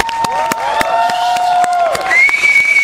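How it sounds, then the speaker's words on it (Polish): Audience at a live concert applauds with scattered claps and cheers, while a sustained tone rings out over the crowd noise. "Brawa, proszę państwa."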